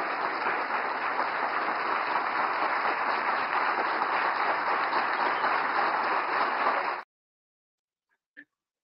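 A large audience after a speech breaks into sustained, dense clapping that holds steady and fairly loud for about seven seconds, then cuts off abruptly into near silence with one faint click.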